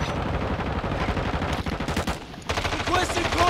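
Dense, rapid automatic gunfire from Call of Duty: Modern Warfare II, loud and continuous with overlapping bursts and a short lull midway before firing resumes.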